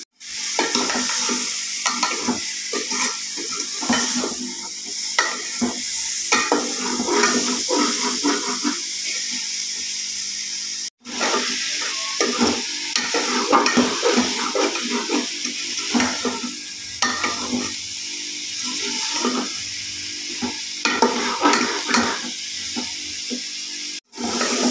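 A spoon scrapes and stirs tomato and onion sabzi in a hot pan over a constant hissing sizzle. The strokes are loud and irregular, and the sound briefly cuts out twice.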